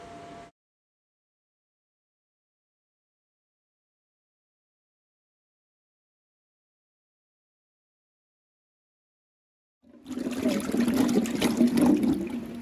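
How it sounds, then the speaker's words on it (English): Tap water running over freshly harvested jujubes being washed, a steady splashing rush that starts abruptly after a long silence and continues loud and close. "after I wash the jujubes, I'm putting them in this pan"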